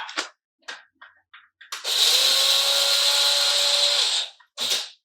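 An electric coffee grinder grinds Greater Goods coffee beans in a steady loud whir lasting about two seconds, with a few short clicks and taps before it and one more brief burst after it.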